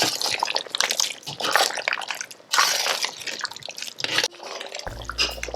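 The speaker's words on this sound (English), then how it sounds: "Give it a stir." Curry goat gets stirred in a pot, wet squelching and sloshing strokes of thick sauce in uneven bursts, close and fairly loud with no talking.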